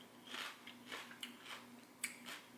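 Crisp crunches come from biting and chewing a raw Brazilian Starfish pepper, about six close, distinct bites and chews in quick irregular succession, with no talking.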